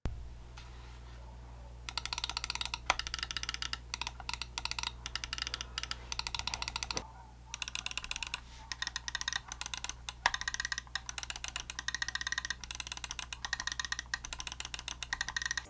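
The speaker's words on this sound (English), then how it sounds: "here's a quick sound test of the clickers" Mouse buttons on a Razer Cobra and a Razer Viper Mini click in quick, crisp bursts, near and alone, with a short pause before another run of sharp clicks.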